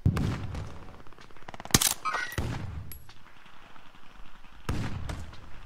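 Gunfire in a video game: scattered loud shots and bursts ring out, some sharp and close, with thuds and quieter pauses between, and a little voice faintly underneath.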